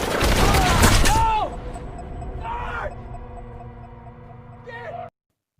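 Gunfire in a film scene from The Hills Have Eyes (2006), a loud, dense burst of shots up front giving way to quieter echoing scene noise with voices crying out.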